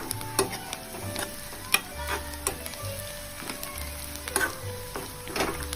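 Onions fry in a pan with freshly grated garlic added, giving a soft sizzle broken by repeated scraping stir strokes and small clicks against the pan.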